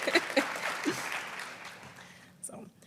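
An audience at an Asian Pacific Islander South Asian American graduation ceremony applauds the graduates, with cheering voices and shouts over the clapping, which fades out after a couple of seconds before a brief final burst.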